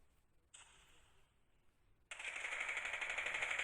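Rapid automatic weapon fire in a video game, a short burst followed by a longer, louder sustained volley of rattling shots, up close with no talking.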